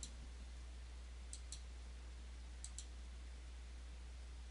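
A computer mouse clicks while a prescription is sent from electronic prescribing software, giving a few faint, sharp ticks in two quick pairs over a low steady hum in a quiet room.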